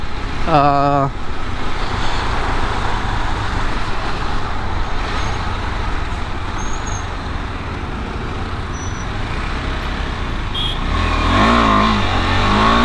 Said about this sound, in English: That way there will be more airflow and give you that noise of the exhaust.